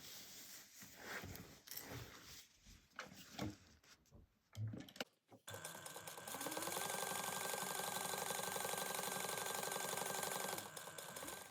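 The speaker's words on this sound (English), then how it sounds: "we're going to top stitch these down in place" A sewing machine top stitches a fabric side piece down beside a slip pocket on a fold-over wallet, running as a loud, steady whir for the second half after quieter handling and shuffling sounds.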